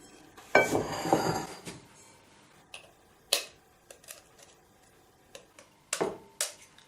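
A free-range egg, a double yolker, cracked against a bowl for an omelette: a sharp tap and crunch of shell, followed by several lighter clinks and taps of dishes.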